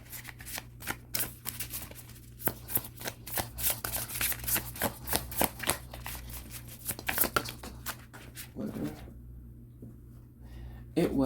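Tarot cards are shuffled rapidly and continuously for about nine seconds, a close, crisp stream of riffling flicks that stops near the end, with a voice present alongside.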